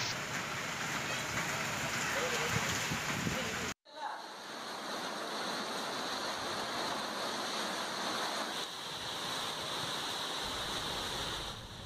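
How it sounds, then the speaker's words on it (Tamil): Heavy rain driven by strong wind in Tamil Nadu, a dense, steady roaring hiss that fills the whole clip, briefly cut and then resuming with a slightly different texture. "பலத்த காற்றுடன் மழை பெய்துள்ளது"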